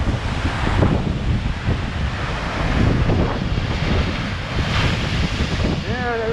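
Big ocean waves surge and break against a coastline below a mud, clay and rock cliff, a loud continuous roar of surf with heavy wind buffeting the microphone throughout.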